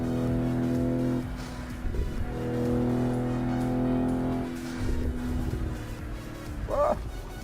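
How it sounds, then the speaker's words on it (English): A Toyota Supra MK5 being driven in a racing video game, its engine droning steadily and rising and falling in pitch through gear changes, with a short tire squeal near the end. "So today I'm driving a Toyota Supra MK5."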